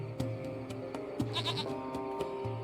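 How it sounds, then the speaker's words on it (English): A goat in the video game Lost Horizon gives a short bleat over a steady musical background, with sharp repeated clicks or taps spaced through the sound, no talking. "It's a goat. There's a goat in my pocket."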